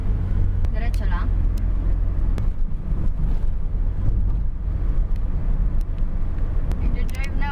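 Car being driven in Japan during a driving lesson, a steady low engine and road rumble close by throughout, with people talking over it and a few faint ticks.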